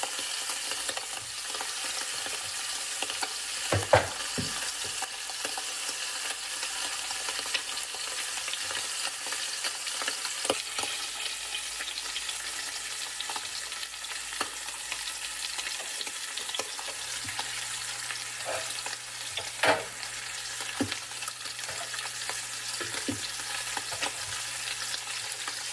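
Oxtails sear in a hot pan with a steady, close, continuous sizzle and frying crackle, while scattered louder pops and an occasional scrape of a utensil turning the meat break in now and then.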